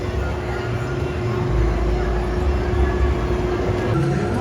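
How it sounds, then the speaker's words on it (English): A theme park train ride at Camp Snoopy rumbles past at steady volume, a continuous rolling drone with a faint tonal hum running through it and no clear breaks, heard fairly close without talk. "Oh, and there's the new train ride"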